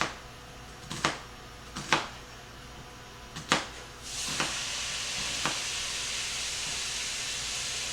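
Ground beef browning in an oiled skillet: several sharp knocks and clanks of meat and utensils hitting the pan, then a loud steady sizzle that rises and holds.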